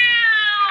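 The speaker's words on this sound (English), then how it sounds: "the cat screamed and leaped against the wall" Cat screaming as a radio drama sound effect: a single loud, sustained yowl with a slightly falling pitch, close and alone for under a second.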